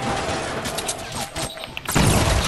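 Gunfire in a French-played first-person shooter game: dense rapid shots and bursts crackling over a noisy battle background, ending in a heavier rush of fire, with no talk over them.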